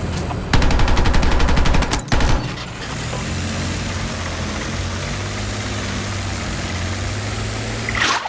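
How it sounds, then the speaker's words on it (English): In the video game Battlefield 6, a rapid burst of heavy gunfire rattles for about two seconds, followed by a loud rushing roar of a tank shell passing overhead and a steady engine drone, with no voices. "Tank shell goes right over my head"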